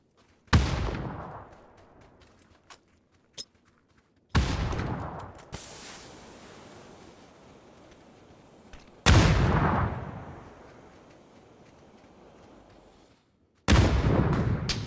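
Gunfire from enemies above in a shooter video game, four loud sharp bursts spaced several seconds apart, each with a long rolling decay.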